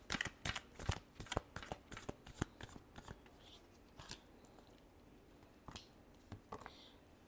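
A deck of tarot cards is shuffled by hand close up, a quick series of crisp riffling snaps and flutters that thins into softer shuffling toward the end, with no voice over it.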